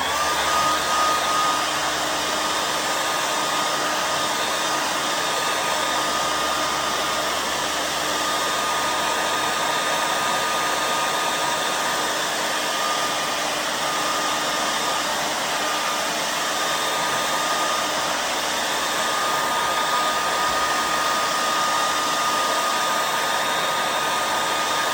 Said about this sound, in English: The first thing I'm gonna do is I'm gonna warm up the guitar with my hair dryer.